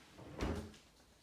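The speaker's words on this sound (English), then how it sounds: "unlocking medication drawer, have the medication" A locked medication drawer in a clinical setting is unlocked and pulled open, producing one short, fairly loud clunk and slide with quiet room tone before and after.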